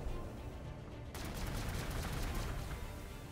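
Dense volley of gunfire from the strategy game Warhammer 40k: Gladius with the Astra Militarum facing Orcs, a sustained crackling barrage that begins abruptly and holds steady.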